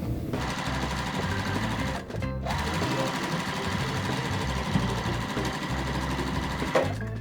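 A sewing machine stitches a strip onto a Halloween cat and spider web quilt block in a fast, steady whir, stopping briefly twice before starting again, close and clear.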